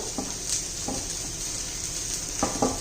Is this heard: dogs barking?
no